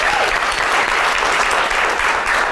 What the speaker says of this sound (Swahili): Wapi makofi yake tena?